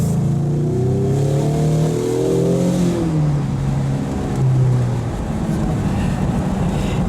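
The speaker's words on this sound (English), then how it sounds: "Does take off pretty good when you need it to, and it's fast for a 4-cylinder vehicle" A 2024 Ford Mustang EcoBoost with a four-cylinder engine accelerates on a test drive, its engine note rising steadily in pitch as it pulls, loud and close from inside the car, then settling into a broad road roar.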